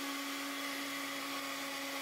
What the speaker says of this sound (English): Oh, you found it! It's a leaf blower!